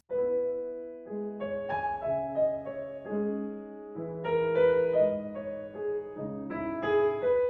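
A solo piano plays the second theme of Scriabin's Piano Sonata No. 2, the Sonata-Fantasy, as a lyrical phrase of sustained chords and melody notes, clear and close in a quiet room.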